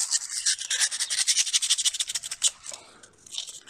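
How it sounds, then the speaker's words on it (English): Rhythmic scratchy rubbing of abrasive against a metal brake pin during a Mercedes W203 brake overhaul, quick back-and-forth strokes up close that ease off and soften toward the end. "and sand it down"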